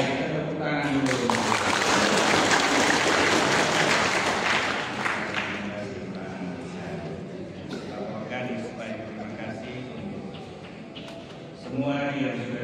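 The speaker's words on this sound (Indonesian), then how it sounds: "Supaya mereka nyanyi dan baik, kita tepuk tangan dulu." Wedding-ceremony applause from a church congregation at a holy matrimony, loud and sustained at first, then easing into a softer patter while voices talk beneath it, with a fresh burst of speech at the end.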